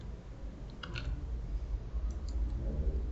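A few light computer-mouse clicks sound while a package is installed in RStudio. They are faint and sparse over a steady background hiss.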